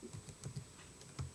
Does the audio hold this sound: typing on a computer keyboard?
yes